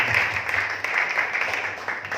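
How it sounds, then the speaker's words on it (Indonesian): A church congregation at a Sunday GBI service claps together, making a dense, even patter of hands over a low hum from the room, steady for a couple of seconds and at a fair distance. "berikan tepuk tangan yang paling meriah"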